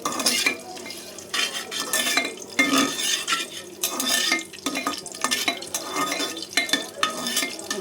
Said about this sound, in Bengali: যে আমি একটু হালকা একটু নাড়া দিয়ে নেব এটা